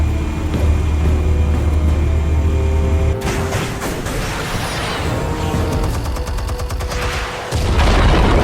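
Explosives detonate in Batman: The Telltale Series, with a heavy low rumble giving way to a burst of booms, crackling debris and rapid percussive pops, loud and close, with no talking.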